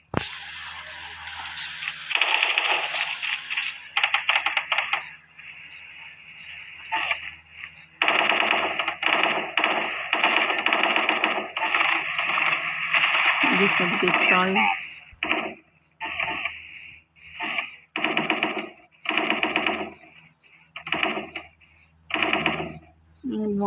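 Rapid bursts of automatic gunfire from a shooting video game, loud and repeated in short volleys with brief gaps, while players talk over the action.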